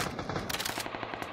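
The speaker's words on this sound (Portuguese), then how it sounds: "Deu um tiro no cara chegando no galpão da frente." Automatic gunfire in the battle royale game PUBG, a rapid burst of shots fired in quick succession, crisp and fairly close, with no talk.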